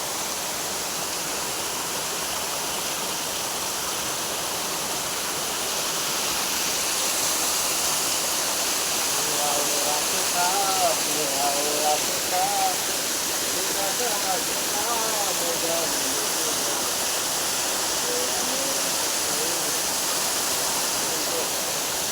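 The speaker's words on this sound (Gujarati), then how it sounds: "ઠેઠ ઉપરથી પાણી પડે છે" Water dropping from a great height at a forest waterfall in hill country roars as a steady, broad rush throughout, with faint voices briefly audible beneath it midway.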